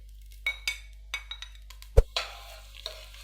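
Onions dropped into hot olive oil in a pot: a few light clinks and stirring scrapes, then a sharp thump followed by a soft, steady sizzle close by.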